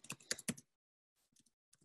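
Bursts of computer keyboard typing, a rapid cluster of key clicks followed by a pause and a few lighter, scattered keystrokes, close and clear with no talking.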